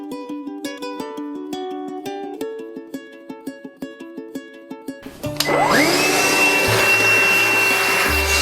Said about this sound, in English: I'm going to get my vacuum cleaner, vacuum out the drawer